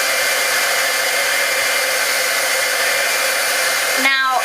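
Hair dryer blowing steadily on a coated vintage flower craft, a loud continuous airy whoosh running close by before it clicks off near the end.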